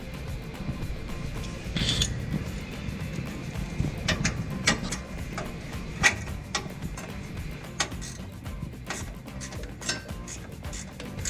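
Metallic ratchet clicks and tool clinks while removing 10mm bolts from the stock exhaust tips of a 2019-2022 Chevrolet Silverado 1500 5.3L, short irregular ticks close by over a low background rumble, no talking.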